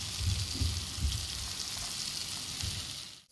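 Finely chopped garlic frying in melted butter makes a soft, continuous sizzle with faint crackles and a few low bumps early on, fading out at the very end.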